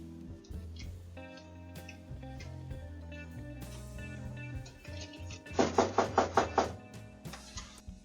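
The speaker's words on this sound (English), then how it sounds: "the man who spent hours knocking on the door and waiting outside" A man knocks on a house door late at night, a quick run of about six sharp raps standing out near the end over a low droning musical bed.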